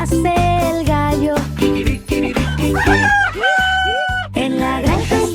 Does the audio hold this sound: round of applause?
no